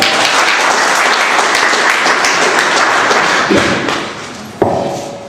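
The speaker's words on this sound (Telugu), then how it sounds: "ఆయనకు మనం ఒకసారి గట్టిగా క్లాప్ చేయాలి." Loud, dense applause fills the room at a film audio launch event, steady at first and then thinning out. A single heavy thud sounds near the end.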